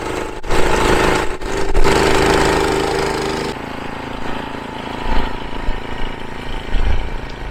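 A Toro Commercial Power TRX snow blower engine runs steadily up close while blowing snow and slush, its drone shifting midway as the load changes.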